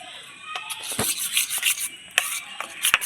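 A spatula scrapes and stirs a buttered healthy snack made with thankuni and drumstick leaves on a hot griddle, giving close, uneven rasping strokes with small sharp clicks and no talking.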